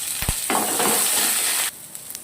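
Chopped onion, ginger, garlic and green chilli sizzling in hot mustard oil, a steady close frying hiss that swells for about a second and then drops away, with a couple of short stirring knocks.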